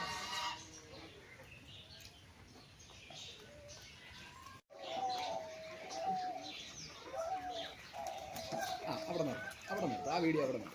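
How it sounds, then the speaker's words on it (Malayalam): Trained pigeons at an animal farm coo softly in the background, with a few chirps, while a person talks over them for most of the time; the birds are faint and somewhat distant. "സിനിമാ പർപ്പസിന് വേണ്ടി ടേം ചെയ്തേക്കുന്ന പ്രാവുകൾ."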